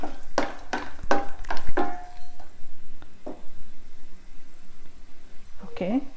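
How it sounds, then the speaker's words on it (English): Cinnamon stick and star anise frying in hot oil for a spicy green chicken curry, a few crackling bursts and clinks early on, then a faint sizzle with someone talking over it. "So here, this is frying."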